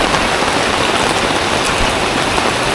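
Sudden heavy rain in the Thai mountains, a dense steady roar of drops pounding surfaces, loud and unbroken throughout with no voices.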